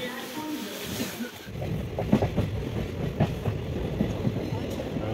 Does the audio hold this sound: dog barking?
no